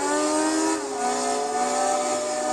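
A Honda S2000 race car engine in Gran Turismo 4 at Twin Ring Motegi screams steadily, close and loud, holding a sharp high-revving whine with a slight dip before climbing again.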